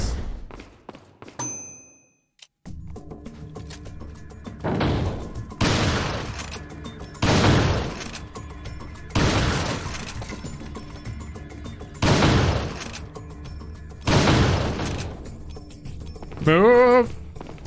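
Bursts of rapid gunfire and heavy grenade blasts from Resident Evil 4 come in repeated loud waves a second or two apart, with a short electronic chime near the start and a warbling effect at the end.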